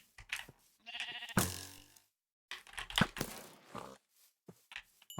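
Sheep in a video game bleat during a shearing attempt: several wavering calls mixed with clicks and other busy game noises, close and fairly loud, with no one talking.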